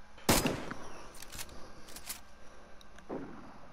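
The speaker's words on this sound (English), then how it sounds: "No, he's still shooting at me." Enemy gunfire in the DayZ video game: a loud sharp shot up front followed by several fainter, more distant cracks spaced out over a few seconds, against a steady background hiss.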